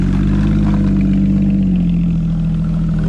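A factory VR6 car engine runs loud and close, a steady low throbbing drone with a slight pitch dip midway, sounding more like a held idle than sharp revs.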